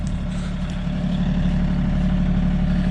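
A farm tractor's diesel engine runs steadily while digging holes for planting peach trees, with a continuous low idle-like drone and no voices.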